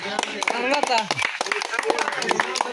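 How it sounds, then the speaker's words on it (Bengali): Scattered hand clapping runs under overlapping voices of people talking, a busy, close-up burst of claps mixed with chatter. "সবাই নয়নের জন্য হাততালি"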